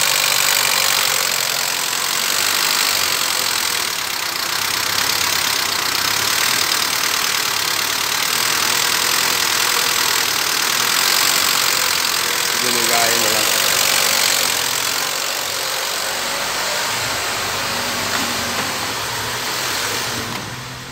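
A 20-year-old Chevrolet Vectra with an electrical wiring-harness fault idles unevenly, a steady mid-pitched engine hum with a faltering, dropping rhythm, while someone talks over it throughout.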